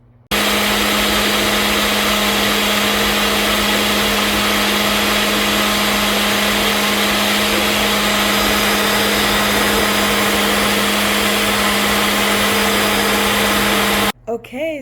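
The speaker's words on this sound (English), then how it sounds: "I'm going to put them in the blender for this bird smoothie" Blender whirring steadily and loudly as it purees soaked raisins and water into a bird smoothie, a constant motor drone that runs nearly fourteen seconds before cutting off abruptly.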